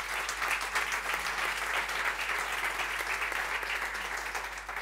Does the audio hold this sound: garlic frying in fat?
no